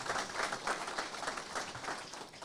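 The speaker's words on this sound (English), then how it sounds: "You can give those people a round of applause" Steady applause from a crowd, dense clapping filling the room at an even level for a couple of seconds with no voices.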